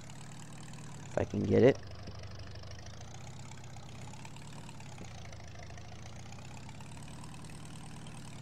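A tractor idles with a low, steady engine drone while being backed in next to a hay mower on a farm, and a brief voice cuts in near the start.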